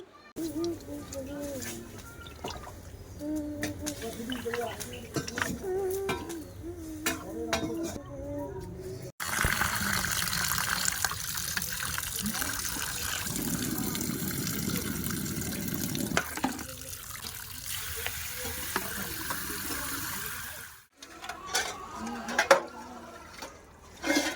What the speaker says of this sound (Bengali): মাছগুলো আমি এবার ধুয়ে নিচ্ছি